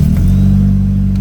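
An Acura RSX engine fires up for its first start after an engine harness tuck, running loud and steady with a strong low drone and rough mechanical clatter, heard close with no talking.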